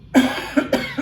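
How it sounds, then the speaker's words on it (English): Someone with a cold coughs several times in quick succession, close and fairly loud, with short harsh bursts and a throaty catch between them. "I still have that cold, so I'm going to be doing a little bit of coughing throughout this"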